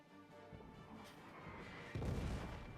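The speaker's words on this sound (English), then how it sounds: "Especially not with the artillery." Artillery fire in the World War I trench game All Quiet in the Trenches, a faint, distant rumble with dull thumps, then a heavier booming impact swelling near the end, no talking over it.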